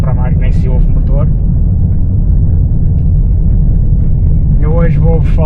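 Inside a quiet-running car on the road, a steady low rumble of tyre and road noise continues throughout, with no engine prominent and someone talking over it.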